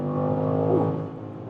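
A BMW M5 sedan's engine revs up in a brief, smooth acceleration, its rising harmonic whine swelling then easing off within about a second, heard from inside the car.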